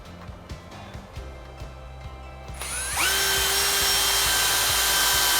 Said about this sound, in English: drill a screw